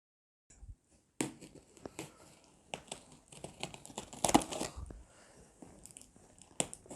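Packaging from an HP Pavilion 15 laptop with an Intel Core i5 is unwrapped up close, giving irregular crinkles, rustles and sharp tearing crackles of plastic and paper, with no talk.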